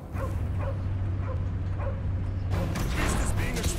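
Dog barking and yipping in the video game Marvel's Guardians of the Galaxy, several short bright barks spread across a steady droning game score, with a louder burst of action noise near the end.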